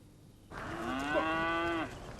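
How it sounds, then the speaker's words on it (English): Cattle in a field of freshly mown hay give one long, loud moo that rises and holds steady, standing alone with no talk. "Cows in a field of newly mown hay."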